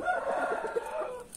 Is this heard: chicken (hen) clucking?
yes